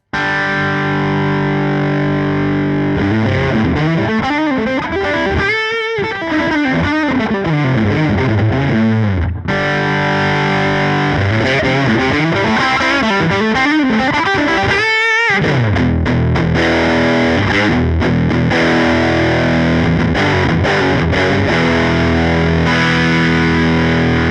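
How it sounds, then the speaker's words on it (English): A guitar through a Vemuram Jan Ray pedal with bass and gain maxed, heavily fuzzed and distorted, plays thick, saturated riffs and bends, loud and continuous with a couple of brief cutoffs. "if we dime the bass, you get something really fuzzy"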